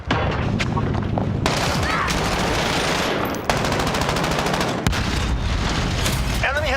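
Sustained automatic gunfire in an online shooter game, dense bursts of rapid shots with booming impacts, loud and continuous, with brief gaps and some in-game voice.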